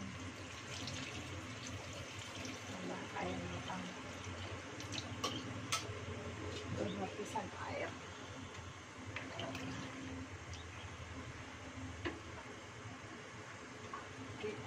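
Water pouring into a pot while chicken feet soup is being cooked, a soft continuous trickle and splash in a kitchen with light clinks and a little background noise.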